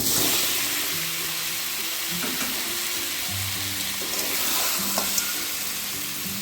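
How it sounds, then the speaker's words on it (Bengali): Fried potatoes and crab pieces go into masala for a crab curry, producing a continuous close sizzle with stirring scrapes throughout. "এবারে ভাজা আলু আর কাঁকড়া একেবারেই সব একসঙ্গে দিয়ে দিচ্ছি"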